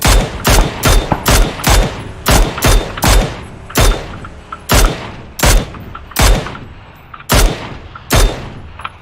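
Rapid gunfire in the video game PUBG, a long series of loud, sharp shots in quick bursts and single cracks, closely spaced at first and then spreading out, with no voices over it.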